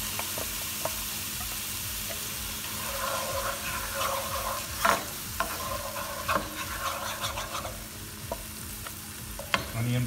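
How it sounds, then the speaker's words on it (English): Onion paste stirred into fish stock reducing in a pan for an Indian fish dish, cooked with ginger and garlic: a steady soft sizzle with scattered spoon scrapes and clicks against the pan, fairly close, no voices. "To this, I'm going to add my onion paste, little onion paste."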